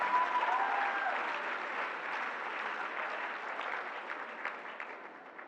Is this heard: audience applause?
yes